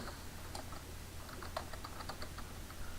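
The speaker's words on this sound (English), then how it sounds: "I'm going to type MyUnity." Keys clattering on a computer keyboard while entering a search in Ubuntu's Software Center, a steady run of quick, close clicks with no talk.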